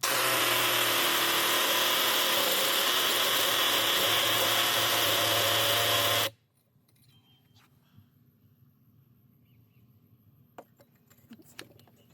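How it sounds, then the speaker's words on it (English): A power drill bores a hole through mortar while routing a mini-split line set, a loud continuous grinding whir that runs for about six seconds and then cuts off, followed by faint clicks and handling noises. "it was drilling a new hole"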